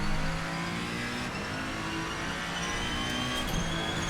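Ferrenzo P49 race car in Assetto Corsa roaring steadily on throttle, a loud continuous high-revving engine note with a faint tire squeal, no talk over it.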